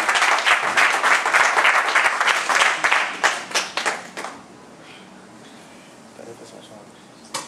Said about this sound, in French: Est-ce qu'on peut ovationner notre Seigneur?